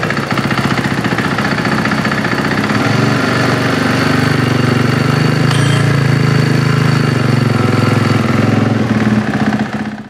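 A 2023 Husqvarna FC450 motocross bike engine runs steadily and loudly close by, a rough, buzzing drone that holds constant for about nine seconds before cutting off.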